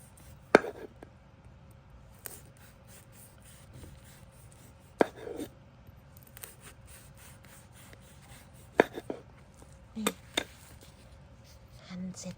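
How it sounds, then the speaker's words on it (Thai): Sparse knife cuts through a firm birch mushroom on a board, a few sharp taps and short rubbing strokes spaced out over a quiet background. "หั่นแบบนี้นะคะ"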